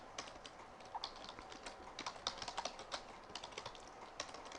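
Quick, steady typing on a computer keyboard, a close, fairly quiet run of light key clicks with no talking.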